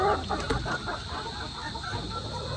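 White Leghorn hens cluck on a farm, a steady murmur of soft, overlapping clucks at moderate distance over a constant background hiss.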